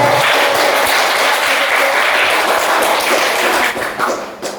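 Classroom of students clapping for a group that has just finished a presentation, a dense burst of many hands applauding together, steady for several seconds before thinning out at the end.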